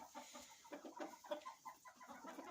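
Chickens cluck softly at close range, a rooster settled beside a hen on the nest, with short, repeated clucks and murmurs in an uneven rhythm on a winter farm.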